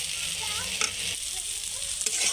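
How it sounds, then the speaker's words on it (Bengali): Taro stolons frying in a pan, a loud, continuous close sizzle with a couple of soft stirring scrapes. "তো এখন আমি এইভাবে ধীরে ধীরে ঘেটে কিন্তু রান্নাটা করে নেব"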